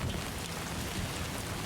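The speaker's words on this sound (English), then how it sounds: "we wait for the rain to pass" Steady rainfall in the Death Stranding 2 video game, a soft, dense patter of rain on surfaces with a low rumbling undertone, continuous and fairly quiet with no voices.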